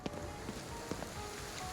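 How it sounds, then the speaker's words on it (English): Steady rain falls in the video game Ghostwire: Tokyo, a dense continuous hiss of drops on surfaces with a few brief patters and taps, even and ambient throughout. "Oh, it's raining."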